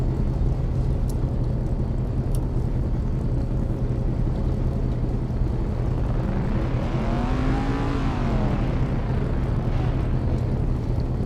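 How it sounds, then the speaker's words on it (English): Racing car engines hum on the starting grid of a video game race at Bathurst, with one engine rising and falling in a clear rev midway over a constant droning background. "Hear the rev of the engines."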